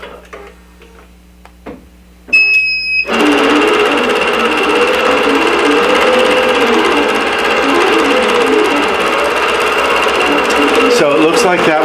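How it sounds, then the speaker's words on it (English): Embroidery sewing machine stitching out a design, starting abruptly after a quiet moment and then running steadily and loudly with a fast, even mechanical chatter for the rest of the stretch. "I'm going to go ahead and let this sew out for a while."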